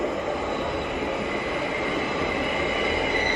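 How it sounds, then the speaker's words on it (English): A train rolls past close by, a loud, steady rumble with rail and wheel noise that holds constant throughout, with no talking. "Just wait for that train to go past."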